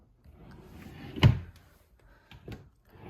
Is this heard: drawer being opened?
yes